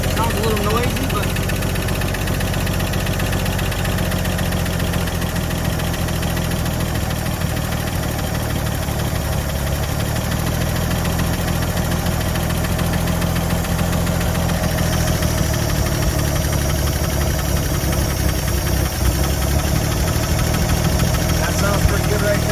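A 1958 Chevy Delray engine idles steadily, a continuous low mechanical rumble with a faint higher whine running throughout, close and fairly loud, with no pauses.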